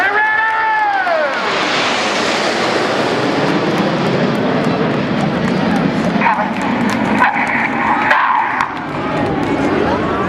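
Red Arrows aerobatic jets at the 2014 Southport Air Show, a loud continuous roar with a sweeping pitch shift as aircraft pass, with a crowd murmuring beneath.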